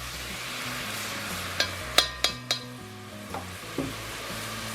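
Very lean ground beef browns in a soup pot with a soft, steady sizzle, broken by several sharp clanks of a utensil scraping and knocking against the pot while it is stirred, and nobody talks.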